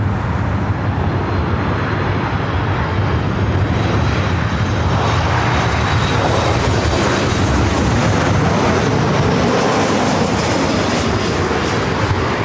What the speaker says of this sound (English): Alaska Flight 330 coming in from Portland on the MAX 8